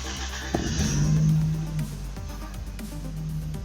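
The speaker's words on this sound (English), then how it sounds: "So now we can start the car." A Toyota RAV4 engine cranks and catches, rising to a brief rev before settling into a low, steady idle nearby.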